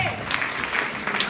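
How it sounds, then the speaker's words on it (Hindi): Seniors at a 20 November 2016 meeting about a Rotorua outing break into loud, sustained applause from a room full of people, with a voice briefly heard at the start. "तालियां जोरदार"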